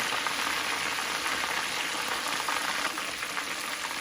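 Country-style catfish frying in hot oil just after being flipped, giving a steady, dense crackling sizzle that runs unbroken and fairly close, with no voices over it.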